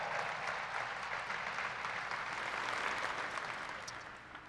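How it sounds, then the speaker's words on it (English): Audience applause at a women's basketball introductory press conference, a full steady roar of clapping from many hands that holds strong and eases slightly at the end. "give her a round of applause again"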